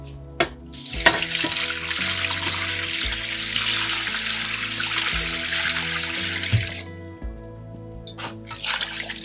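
Water pours steadily from a tap into a pot of charred beef soup bones for broth, a loud, continuous rushing splash lasting several seconds with a few knocks at the start and end.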